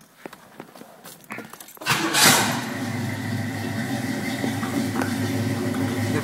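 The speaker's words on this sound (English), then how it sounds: "Let's start the car." A restored 1978 Pontiac Trans Am cranks briefly, then its V8 catches with a loud roar and a quick rev before settling into a steady, rumbling idle, close by and with no talk.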